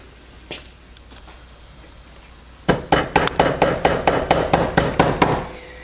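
A punch tapped with a hammer on the adjustment bolt of a 1953–1962 Corvette steering gearbox, about a dozen sharp metallic taps in a quick, steady rhythm, close and clear after a quiet start.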